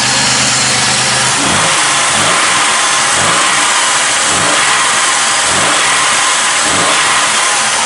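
A car fitted with a Holley carburetor and straight pipe exhaust revs repeatedly in sharp, loud bursts over a steady rumble, about six throttle blips in quick succession, close to the microphone with no talking.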